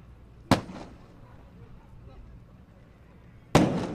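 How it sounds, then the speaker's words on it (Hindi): An explosive special charge blasts open a door during a commando demonstration in Gujarat: two sharp, loud bangs about three seconds apart, each with a short rumbling tail over quiet background noise. "अब आपके सम्मुख प्रस्तुत है विस्फोटक की मदद से दरवाजा तोड़ने की तैयारी"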